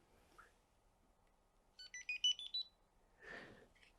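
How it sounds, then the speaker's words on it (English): An electronic shelf label's onboard buzzer plays a short run of five or six quick electronic beeps, fairly close and clear, with a faint soft clatter before and after. "And besides LEDs, they also have a buzzer"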